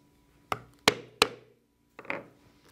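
Several sharp, close mallet strikes drive a stitching punch through leather for a phone holster: three hard knocks in quick succession, a pause, then two more softer hits.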